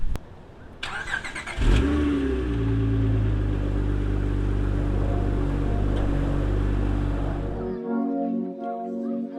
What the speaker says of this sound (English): one last cold start